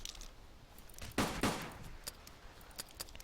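Two loud SKS rifle shots in the video game DayZ, fired close together, each a sharp blast with a short decay, standing out clearly against quiet background noise.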